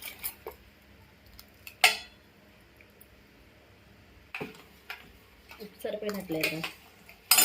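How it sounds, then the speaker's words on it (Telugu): Ingredients being mixed in a pot for festive home cooking: scattered metallic clinks, scrapes and a few sharper knocks of a spoon against the pot, with quiet stretches between and some faint talk. "ఇవన్నీ కూడా మనం బాగా మిక్స్ చేసుకోవాలి"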